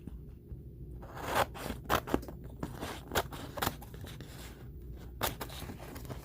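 Scissors cut through a sheet of Siser EasySubli transfer material, a close series of crisp snips and papery crunches in uneven bursts, with quiet pauses between cuts.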